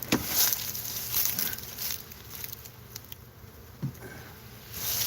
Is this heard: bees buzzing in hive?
yes